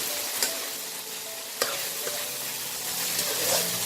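Spice masala frying in oil for a Bengali fish head curry, a continuous soft sizzle with occasional spoon taps and scrapes, fairly quiet and close.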